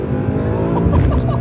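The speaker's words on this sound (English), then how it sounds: "Full throttle for the first time in the Twin Turbo Mustang" Twin-turbo Coyote V8 Ford Mustang at full throttle, a steady loud engine roar with rising tone as it accelerates, heard close and continuous with no talking.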